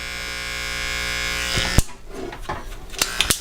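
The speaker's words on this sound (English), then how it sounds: "I'll hit that a little bit with trimmers." An electric beard trimmer buzzes steadily close by while trimming hair under the eyes. The hum cuts off partway through, followed by a few sharp clicks and handling taps.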